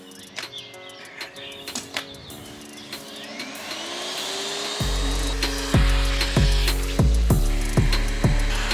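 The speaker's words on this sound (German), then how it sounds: "Ich will eigentlich nicht weiter darauf eingehen, dass dieser Staubsauger alles schon gesaugt hat." A vacuum cleaner runs loudly and steadily while cleaning a car's interior and upholstery. Its whine is joined midway by repeated rhythmic scraping and thumping as the nozzle drags across surfaces.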